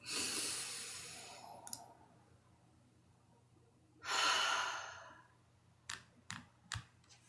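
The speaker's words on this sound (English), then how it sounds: "Take some really big deep breaths." Really big deep breaths taken close to the mic: a long airy inhale, a quiet pause, then a second strong breath, followed by a few soft clicks and taps.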